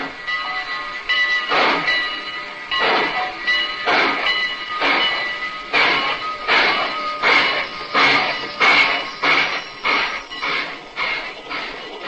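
Passenger train rolling along the track, heard from an observation car of a Great Valley train near Northbridge, Minnesota, as a radio drama effect: steady rumble with a regular, rhythmic clickety-clack of wheels over rail joints throughout, close and continuous with no talk.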